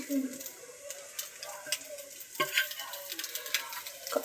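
Homemade fried rice with chilli powder, salt, garam masala and coriander powder is stirred in a pan: a soft sizzle with frequent light scraping and tapping strokes of a spoon, close and fairly quiet.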